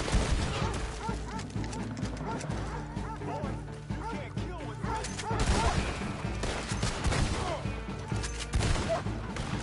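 Gunfire erupts in the Red Dead Online video game amid a dense, busy game soundtrack, with repeated shots and crashes layered over music and ambient effects and a voice talking now and then.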